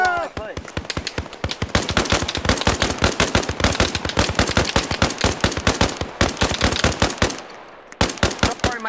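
Rapid, loud bursts of automatic gunfire crackle almost nonstop in the military shooter Arma Reforger, with a few brief pauses between strings of shots.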